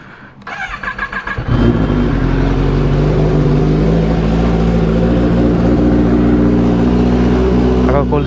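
A Kawasaki ZX-10R superbike, freshly washed, cold-starts after a few rhythmic cranking pulses, then settles into a loud, steady, close-up idle with a deep throb that holds unbroken to the end.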